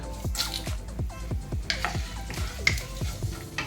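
Dried red chillies and urad dal frying in hot oil for uppumavu, with a soft continuous sizzle and a rapid series of small pops and crackles close by.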